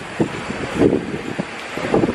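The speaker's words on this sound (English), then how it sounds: "And it's really windy" Steady wind buffets the microphone outdoors on a New Orleans street, rumbling continuously with gusty swells and faint traffic noise underneath.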